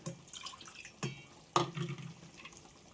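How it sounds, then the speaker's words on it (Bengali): A little water is poured into a cooking dish, giving a few brief splashes and drips against a faint background, close and fairly quiet, with no speech. "একটু জল দিই"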